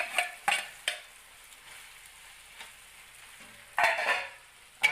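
Cooked rice for sweet and spicy fried rice is stirred in a wok, with a handful of sharp scraping spatula strokes over a quiet, steady sizzle, no voices.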